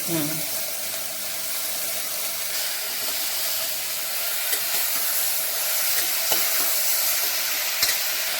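Chopped bottle gourd sizzles and hisses steadily in a hot pan for a Tamil-style kuzhambu, with occasional scrapes and clinks of a spoon stirring through the continuous frying noise.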